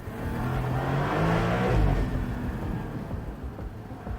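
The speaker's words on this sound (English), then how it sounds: "the engine note is slightly enhanced by the rear speakers" Porsche 911 Turbo S of the 992.2 generation, its engine note enhanced through the cabin's rear speakers, heard from inside as a steady, rising hum that swells and then eases off, with no talking.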